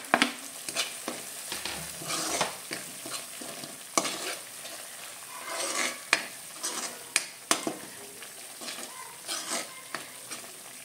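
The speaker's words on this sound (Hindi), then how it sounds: "एक मिनिट आपल्याला हा मसाला चांगला परतून घ्यायचा आहे, तेल सुटेपर्यंत।" Masala with chopped tomato sautéing in oil in a pan for a chicken dish, busy crackling sizzle under repeated sharp scrapes and clinks of a spoon stirring, close and irregular, no speech.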